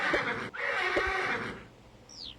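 A horse in a video game gives a loud, close, shaky whinny that breaks once briefly and then trails off, followed by a short high chirp.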